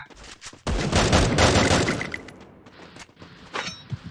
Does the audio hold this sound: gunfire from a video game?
yes